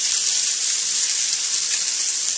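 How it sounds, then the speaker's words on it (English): Salmon sizzling in a hot pan gives a steady, close, bright hiss that holds evenly from start to finish, with no voices over it. "you can hear the sizzle"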